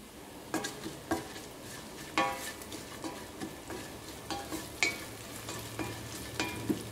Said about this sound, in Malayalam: ഇപ്പം മല്ലിപ്പൊടിയും ഇതിനകത്ത് കിടന്നിട്ട് നന്നായിട്ട് മുരിഞ്ഞിട്ടുണ്ട്.